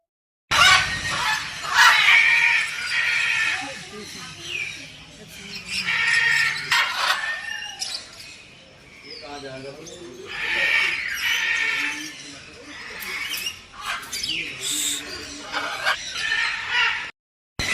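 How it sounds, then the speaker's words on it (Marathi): Assorted birds calling in an aviary at the Sai Palkhi Niwara in Shirdi, honking, clucking and squawking calls in repeated bursts, fairly near and loud, with people talking between and under the calls. "हे असं सुंदर असं विविध पक्ष्यांचं पक्षी संग्रहालय"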